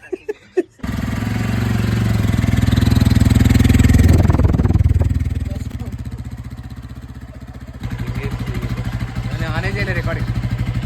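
A Hero Xpulse 200 motorcycle engine starts after an engine flush and runs close by, a loud, steady thumping idle that swells and eases slightly, with people talking over it at times.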